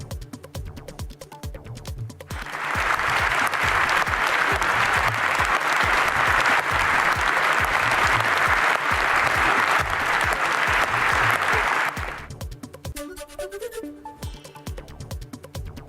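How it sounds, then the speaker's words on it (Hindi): Members of the British Parliament give Zelensky a standing ovation, a dense, loud burst of clapping that swells in abruptly, holds steady for about ten seconds, then cuts away to quieter background sounds. "सांसदों ने खड़े होकर ज़ेलेंस्की के लिए तालियां बजाई।"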